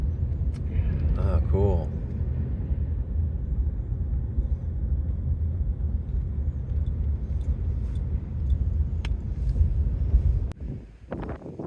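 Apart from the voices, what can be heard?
truck that stocks the fish, driving by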